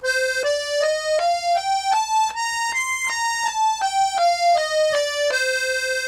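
An accordion, a 32-bass model, plays a C Dorian scale note by note, rising step by step and then descending back down, each tone steady and reedy, with no talking.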